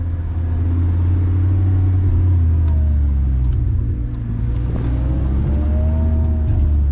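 A supercharged Lamborghini Gallardo Spyder on the move, its engine a loud, close, steady rumble with small rises and dips in revs and a faint supercharger whine above it, with no talking.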